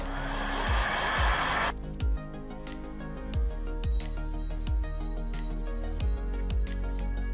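A heat gun warms the screen of a Samsung Galaxy S21 Ultra during a screen replacement, giving a loud steady blowing roar, with a sharp shift partway through and regular dull thumps underneath.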